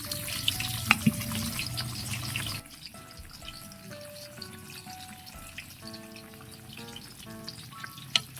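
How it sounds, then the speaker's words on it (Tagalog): A pot for mussel sinigang comes to a boil, a steady bubbling hiss with occasional pops and clinks, loud at first and then settling lower, with no talk. "kumukulo na"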